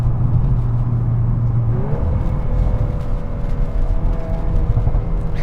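A 2022 Volkswagen Golf R MK8 with DSG gearbox accelerates hard, engine and rear exhaust droning loudly from inside the cabin, pitch sweeping upward through a gear change.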